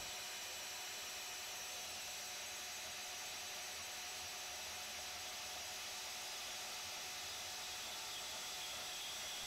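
A Dewalt dual switch cordless bandsaw runs steadily and cuts, giving a continuous, even motor whine that holds at a constant level for the whole stretch with no talking.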